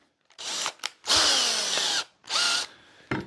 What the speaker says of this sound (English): take our 1/2 inch drill bit